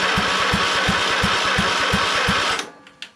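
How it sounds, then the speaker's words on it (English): Kohler Courage engine on a Craftsman LT2000 lawn tractor cranks over on its starter in a steady, rapid chug of low thumps for about two and a half seconds, then cuts off, followed by a faint click. "we're turning the key and it cranks when it should"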